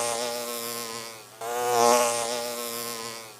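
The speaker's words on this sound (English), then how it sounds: "there's like 3 wasps around me." Several wasps buzz close by outdoors, a steady droning hum with shifting pitch that dips briefly and then swells louder as they circle near.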